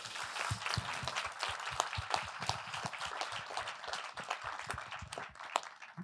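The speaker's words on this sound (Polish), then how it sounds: "Brawa." Sustained applause from a meetup audience at the end of a talk, a moderately sized crowd clapping continuously with clear individual claps throughout.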